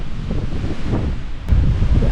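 Strong gusting wind buffeting the microphone on a hike to Robin Hood's Cave, a loud continuous low rumble that surges near the end, with no voices.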